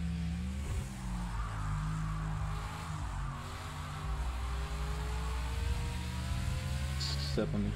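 A race car engine in the racing game Project Cars 2 rises in pitch as it accelerates through the gears, loud and continuous, with a voice talking over it.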